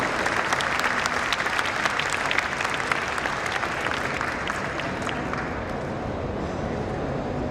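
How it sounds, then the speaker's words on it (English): Applause from an audience welcoming the inaugural panel at a conference, a dense steady wash of many hands clapping that holds throughout and eases slightly toward the end. "A big round of applause for the first inaugural panel."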